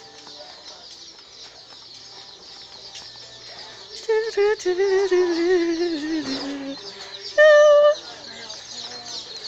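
Birds such as baby ducks and chicks in a store enclosure chirp and cluck in bursts, some high peeping close by, while people talk over them.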